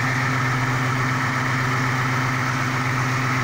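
A Ford Mustang with a 302 engine and a 750 CFM double-pump carburetor idles steadily and close by, a smooth, even low rumble with no revving, heard alone.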